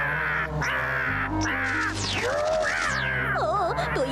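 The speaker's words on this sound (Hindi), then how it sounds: "ओ, तो ये बुरा कौवा अब मुझसे बदला ले रहा है।" A cartoon crow caws repeatedly in harsh, close, loud bursts, mixed with swooping cartoon sound effects and a wobbling tone near the end.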